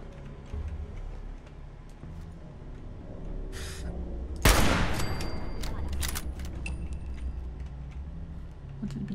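A gunshot in Fallout 4 rings out as a single sharp, loud crack partway through, followed by a tinkling spent casing and a low game ambience, with scattered faint clicks before it.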